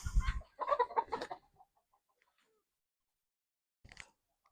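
Several farm chickens cluck in a quick burst of close, busy calls, then fall quiet before one brief squawk near the end.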